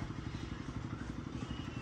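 A motorbike putters close by with a rapid, even thumping idle, a low clattering beat that stays steady and fairly quiet throughout.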